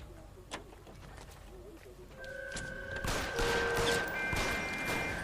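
Tommy gun fire in the 1940s crime video game L.A. Noire breaks out midway, a dense spray of shots over steady background noise and rising tonal game effects.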